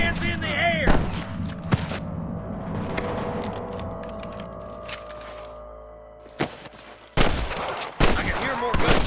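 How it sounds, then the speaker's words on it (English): Loud gunshots and bursts of gunfire from the video game Red Dead Redemption crack out in clusters, with mechanical clicks, a lingering rumble between volleys and game sounds underneath. "I can hear more gunshots."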